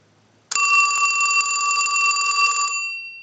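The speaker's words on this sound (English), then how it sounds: "we want to use the analyzer and ring the unit." After a brief quiet moment, the bell of a Mickey Mouse novelty telephone bursts into a loud, close, steady metallic ring lasting a couple of seconds, then decays away, with no talk.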